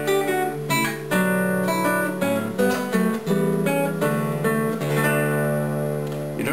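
A song played on a glute, a hybrid of lute and guitar, with plucked chords and melody notes ringing brightly and continuously, close and loud, without any talking.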